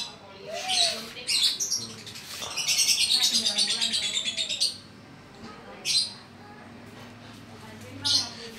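A lory parrot gives several loud, shrill, close calls, one long harsh rasping burst among shorter squawks, with pauses of quiet room sound in between.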